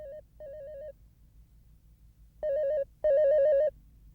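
An electronic phone ringtone trills in short repeated bursts, clear and fairly close, with gaps of quiet between rings.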